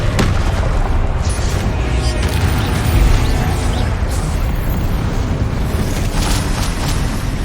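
Fiery Confringo blast spells in the Hogwarts Legacy video game, a dense, loud rumble of booming explosions and crashing impacts that stays at full force for the whole stretch with no voices over it.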